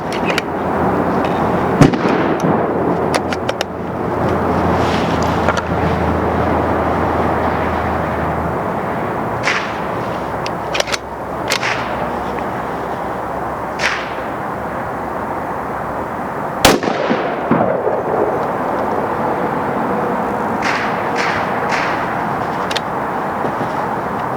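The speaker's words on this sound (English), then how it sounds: "So here's the first couple rounds." A Ruger Precision Rifle Gen 2 fires at an outdoor range, several sharp, loud shots spaced seconds apart, each with a short echoing tail over steady outdoor background noise.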